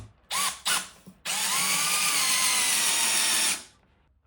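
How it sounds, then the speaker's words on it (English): A power drill drives a lath screw with a low-profile washer head into a wooden stud in a garage: two short bursts, then one steady, loud whirring run of about two seconds that cuts off abruptly. "This screw is going to go in the top plates, and this screw is going to go in the stud."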